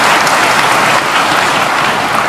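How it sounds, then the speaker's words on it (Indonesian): An audience at a university lecture claps continuously, producing loud, dense applause that stays even throughout without voices. "Adapun tepuk tangan yang kurang semangat saya maklum karena lapar semuanya."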